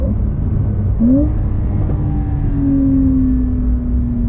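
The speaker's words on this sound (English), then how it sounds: "So those are some downshifts right there." A Porsche 911 Carrera S engine with PDK transmission drones steadily, with short rising revs and a longer whining tone as it downshifts; no talking.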